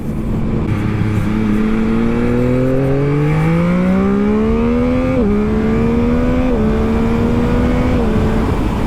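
A 2021 Yamaha MT-09 SP motorcycle engine revs up steadily, its pitch climbing through several gear shifts, loud and close throughout with no talking.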